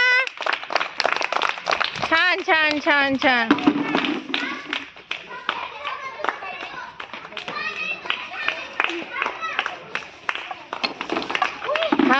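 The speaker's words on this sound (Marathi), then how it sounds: "टाळ्या वाजवा टाळ्या वाजवा" Children clap their hands in bursts of rhythmic slaps, close by, mixed with a child's chanting and a voice calling out.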